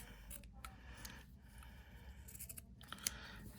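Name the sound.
scissors cutting a sock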